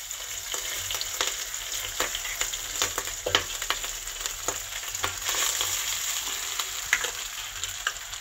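Rice goes into a hot pan with browned mutton and chillies for a quick mutton biryani, producing a close, steady sizzle and fry with frequent clattering stir and scrape strokes throughout.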